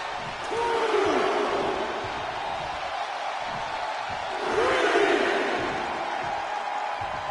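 A video-game wrestling arena crowd in WWE 2K24 roars and cheers in two swelling waves, a dense distant mass of voices rising, easing off, then surging again.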